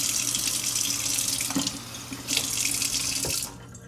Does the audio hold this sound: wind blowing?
no